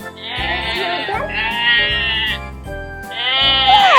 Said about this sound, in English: Yes, that's a sheep.